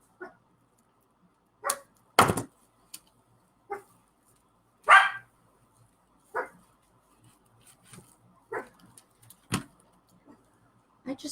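A small dog yaps and barks in short sharp bursts, about a dozen scattered yips and barks with quiet gaps between them, heard close by in an otherwise quiet room.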